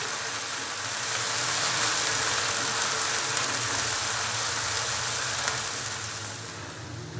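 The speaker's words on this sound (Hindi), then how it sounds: "अदरक और लहसुन के पेस्ट को अच्छे से मिक्स करेंगे और इसको भी अच्छे से फ्राई कर लेंगे।" Ginger-garlic paste fries in oil for a chicken curry, giving off a steady, dense sizzle and hiss that swells in and holds continuously at close range.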